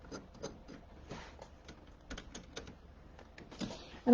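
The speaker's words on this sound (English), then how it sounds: "So let's put the foot back on here." A presser foot is clicked back onto a sewing machine in a run of light, close plastic-and-metal taps and small mechanical clicks, ending in a louder knock.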